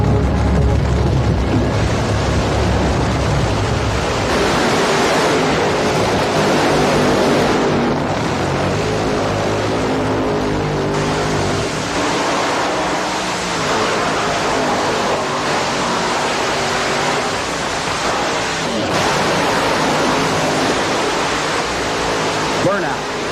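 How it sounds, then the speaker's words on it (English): Drag racing cars roll through the water traps to wet their rear tires before the burnout, a loud continuous roar of engines and spray with rumbling low end and shifting engine tones throughout. "Cars through the water traps to moisten the rear tires"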